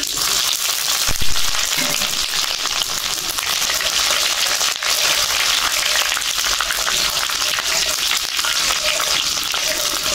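Panch phoron spices and chopped ginger with chilies fry in hot oil for a village khichdi, a loud, steady, dense sizzle that holds evenly throughout with a brief stir near the start.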